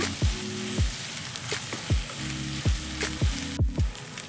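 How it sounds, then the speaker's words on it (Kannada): Onions fry in hot oil for village-style chicken sambar, a steady close sizzle broken by repeated scraping stirs of a spoon in the pan. "ಈರುಳ್ಳಿನ ಡೀಪಾಗಿ ಫ್ರೈ ಮಾಡ್ಕೊಂಡಷ್ಟು ಸಾಂಬಾರು ತುಂಬ ಚೆನ್ನಾಗಿ ಬರುತ್ತೆ."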